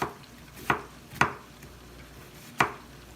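A knife cuts thin slices of onion on a board in four sharp, separate chops spaced irregularly, each a crisp close thud with a short ringing edge.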